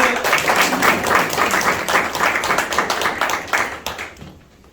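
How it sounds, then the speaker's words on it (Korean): Congregation applause after a testimony at a church prayer training school: brisk, close clapping from a modest group, lively and rhythmic, then tapering off and stopping near the end. "박수"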